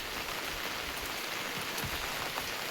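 Steady, dense patter of rain falling on surfaces, continuous and fairly close, with no voices.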